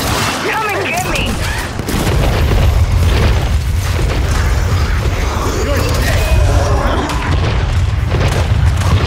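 Frag grenade blast in Gears 5 Horde mode booms loudly amid a dense barrage of gunfire and mechanical clatter, with in-game voice callouts over the ongoing combat.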